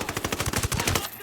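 Rapid automatic gunfire in the Ghost Recon Wildlands video game, a loud, steady burst of about a dozen evenly spaced shots that stops abruptly near the end.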